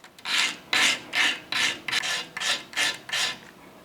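A guitar nut is rough-cut and given a bevel with a file, in eight even, close rasping strokes with short pauses between them and no talking.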